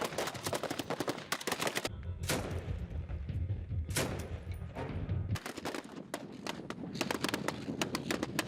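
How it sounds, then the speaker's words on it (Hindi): Rapid bursts of gunfire from a gunfight between rival factions in Daraa, Syria: dense, loud volleys of sharp cracks crowd the start and end, with fewer scattered shots and a low rumble in between. "2 गुटों में गोलियों की बौछार चली। गन फाइट की तस्वीरें सामने आई हैं।"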